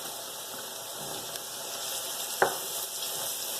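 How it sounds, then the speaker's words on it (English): Minced ginger added to garlic frying in a pan, giving a steady soft sizzle with a brief clack or stir near the middle, close and fairly quiet, no talk. "Let the garlic cook for about a minute till it's nice and brown. Now I'm going to add in the minced ginger"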